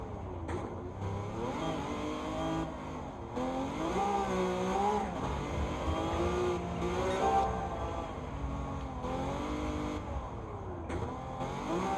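A Vision GT car in Gran Turismo 7 revs continuously, its engine tone rising and falling in long sweeps as it shifts and accelerates. The sound is steady and moderately loud, with no one talking.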